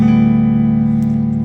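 A Digitech Death Metal pedal run through a guitar amp set to a clean tone gives a steady sustained guitar tone with strong low harmonics, loud and alone, ringing evenly for about a second and a half.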